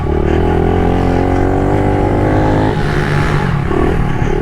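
A small kids' dirt bike engine, called a buddy bike, revving loud and close, its buzzing note climbing and wavering before dropping and rising again with no pause.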